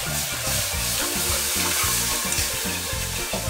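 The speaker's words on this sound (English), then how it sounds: "It's just 2 cups of milk I'm adding inside of this." Two cups of milk are poured into a hot pan for white sauce, giving a steady, fairly loud sizzling hiss throughout with a low rumbling layer beneath.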